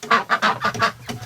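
Chickens in a coop on a bitterly cold day, clucking and honking in a quick run of about six loud, close bursts with no talk.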